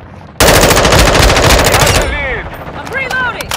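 A light machine gun fires a dense, loud, sustained burst for about a second and a half in Call of Duty: Modern Warfare II multiplayer, followed by a shorter burst, with game effects and a player's voice in between.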